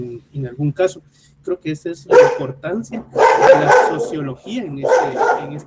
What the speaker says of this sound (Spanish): perdón por los ladridos del perro